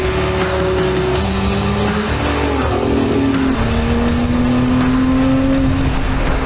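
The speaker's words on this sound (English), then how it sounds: "This engine just roars." A Lotus Emira's engine roars under acceleration on a test drive, a loud, sustained note that climbs in pitch through gear changes, heard from close by inside the car.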